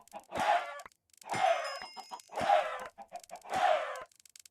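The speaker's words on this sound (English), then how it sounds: "How many chickens we got?" Chickens in the video game Minecraft, modded Vault Hunters, cluck in four distinct bursts at a steady rhythm, each a throaty squawking call, clear and fairly close with no talk over them.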